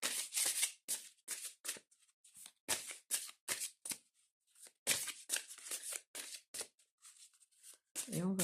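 Tarot or oracle cards shuffled by hand for a full-moon reading, a run of short crisp riffles and flicks in quick bursts separated by brief pauses, close and clear with nothing else underneath.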